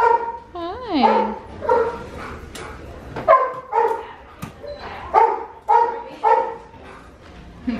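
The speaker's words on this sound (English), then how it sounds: "Those doggies are barking." Several dogs bark and yip in rapid bursts nearby, loud and repeated throughout, with someone talking over them.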